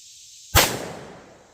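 A single sharp .357 Magnum revolver shot fired outdoors, a loud close crack followed by a decaying rumble of echo over a faint steady background hiss.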